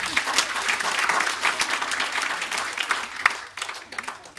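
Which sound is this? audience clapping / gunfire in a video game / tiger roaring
audience clapping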